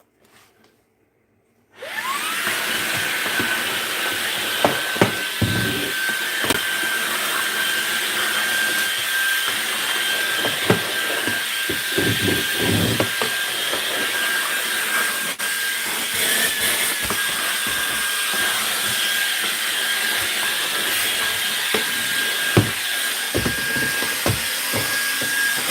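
A Shark HEPA vacuum cleaner switches on after a brief quiet moment and runs loud and steady with a high whine and airflow hiss, while debris rattles through the hose at intervals.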